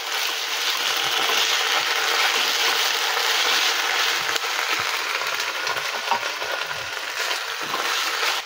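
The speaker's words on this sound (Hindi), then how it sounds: "आकु टिके भलो भाबरे भाजी देबा।" Two tablespoons of ginger garlic paste fry in a pan over a low-medium flame for a coconut chicken curry, giving a continuous close sizzle with faint stirring scrapes.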